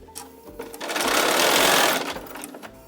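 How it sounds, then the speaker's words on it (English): A sewing machine stitching a quilt block for a twisted knot pattern along the diagonal line: a steady mechanical whir that speeds up to a loud continuous run, then slows and stops, with no talk. "we're gonna go ahead and sew on the diagonal line"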